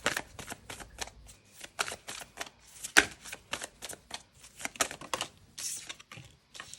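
Oracle cards are shuffled and drawn from a deck, a close run of quick papery flicks and taps with one sharper snap midway, alone without talk.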